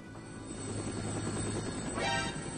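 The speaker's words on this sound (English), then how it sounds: "2 helicopters, brup!" Steady low rotor drone of a helicopter in Metal Gear Solid 2: Sons of Liberty, with a rising whoosh near the end as it passes close.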